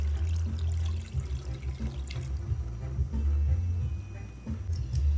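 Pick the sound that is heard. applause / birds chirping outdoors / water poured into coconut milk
water poured into coconut milk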